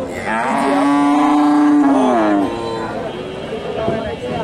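Cattle at a busy Friday cow market in Bogura bellow with one long, loud, close moo, followed by the crowd noise and chatter of the market.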